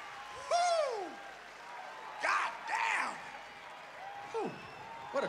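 Concert crowd at a show at Rock am Ring 2023 breaking into bursts of applause and whoops, several swells of clapping and cheering with whistling, no talk.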